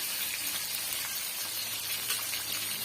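Onions and garlic sauté in a pan for a chutney, giving a steady, close hiss of sizzling oil that runs unbroken throughout with no talking.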